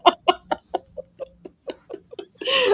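A rooster clucks in a series of short, separate bursts, about a dozen sharp calls in quick succession, close and clear, ending in a longer, harsher squawk.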